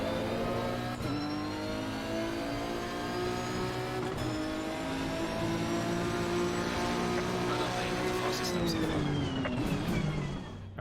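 A Nissan race car engine in Assetto Corsa Competizione drones loud and steady, holding a sustained whine that dips with a brief shift before climbing again.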